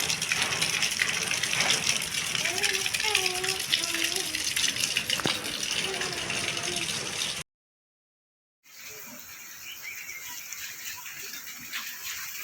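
During heavy rain, water gushes loudly and continuously. Bird or animal chirps come and go in the middle, then after a brief gap the rushing water returns, a little quieter.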